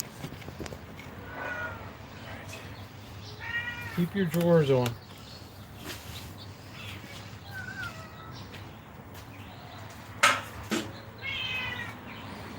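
Several cats meow repeatedly outdoors, some calls drawn out and wailing, one rising loud near the middle and another sharp cry later, while someone talks to them over the noise.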